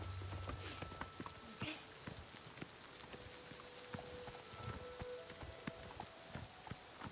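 Horse hooves galloping in Elder Scrolls Oblivion, a quick steady clip-clop rhythm running throughout over a light ambient bed with faint rain-like patter.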